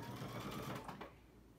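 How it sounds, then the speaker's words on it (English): A sewing machine runs a quick, steady back stitch through quilt binding, its dense mechanical whir close and continuous before easing off toward the end. "So I'm going to back stitch again to make sure it holds."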